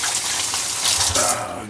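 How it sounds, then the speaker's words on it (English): A kitchen tap runs steadily while hands are washed under it, a close, even splashing gush with small shifts in tone as the hands move through the stream. "Let that sit for a moment while you wash your hands"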